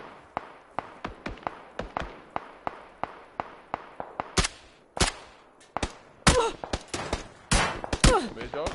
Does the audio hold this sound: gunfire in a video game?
yes